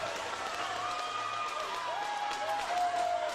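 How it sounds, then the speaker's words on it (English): A Tongan crowd cheers and claps at a FIBA U15 women's basketball third-place game against Samoa. The cheering is faint and distant, with sneaker squeaks on the court and a commentator talking over it. "And the Tongan crowd has come to life."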